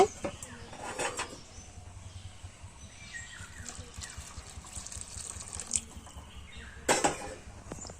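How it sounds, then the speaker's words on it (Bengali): Hot water poured into a pan of chickpea ghugni, a soft trickling and splashing flow with brief louder gushes near the start and end, fairly quiet overall. "এবার পরিমাণ মতো গরম জল দিয়ে দেব।"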